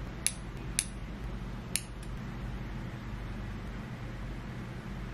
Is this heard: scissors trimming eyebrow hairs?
yes